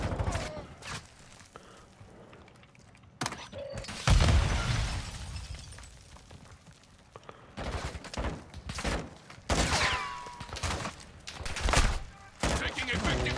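Gunfire erupts in the video game Call of Duty: Modern Warfare II, sharp bursts of shots and a loud crash scattered across the clip, with voices speaking between the shots.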